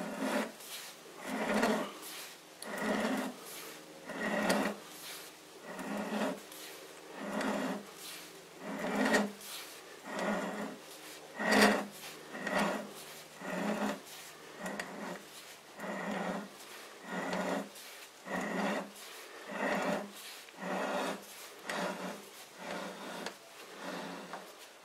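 A lathe spindle is turned by hand to cut a thread, giving a series of rhythmic scraping, rasping strokes about one per second with brief pauses between them, close and moderately quiet.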